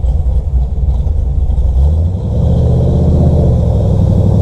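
Chevrolet Camaro with a 6.2 liter V8 engine and aftermarket cam, a loud deep rumble that builds into a rev, heard close from inside the car.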